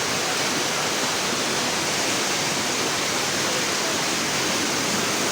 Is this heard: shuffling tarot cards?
no